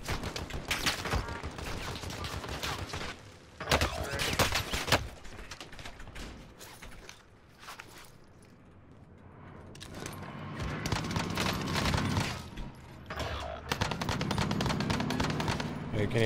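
Rapid gunfire in a game session crackles in dense, loud bursts and sustained automatic fusillades, dipping briefly into a quieter stretch before resuming heavily.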